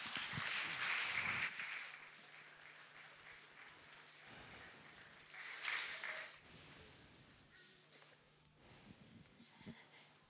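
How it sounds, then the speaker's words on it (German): A crowd at a Christmas event in Seiffen gives brief applause, a burst of clapping at the start and another swell midway, faint and settling into quieter murmuring room noise between. "es ist vielleicht noch einen kleinen Applaus wert"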